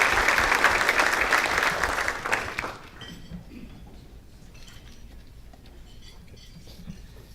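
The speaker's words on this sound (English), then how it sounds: "we can recognize them with a round of applause" Audience applause for honoured guests at a city's annual address, a loud burst of clapping that fades after nearly three seconds into quiet room tone with faint clinks of dishes and cutlery.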